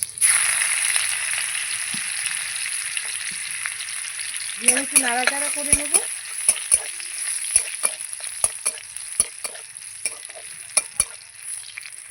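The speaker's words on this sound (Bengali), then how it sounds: "তেলটা গরম হয়ে গেছে রসুনটা দিয়ে দেবো এই যে থেতো করে রসুন রেখেছিলাম এটা দিয়ে দেবো" Crushed garlic dropped into hot oil in a pan while cooking pumpkin greens, a loud steady sizzle with stirring scrapes and sharp utensil clicks against the pan, close up, no talk.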